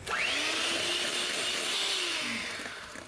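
An electric mixer whips a dalgona coffee mixture with a steady high whine that ramps up at the start and slows at the end, close and loud.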